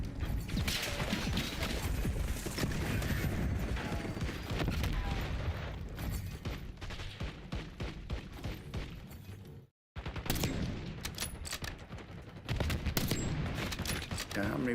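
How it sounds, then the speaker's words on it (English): Rapid sniper rifle fire and mechanical clatter in Call of Duty Black Ops 6 sound loud and dense as shots are aimed at a sentry turret, breaking off in a brief silence near the end before the gunfire resumes. "how many sniper bullets is this sentry turret gonna take? I've put so many in there."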